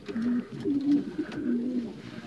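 Racing pigeons in an old-bird loft coo in soft, repeated low throaty phrases, close and continuous with faint rustling in the background.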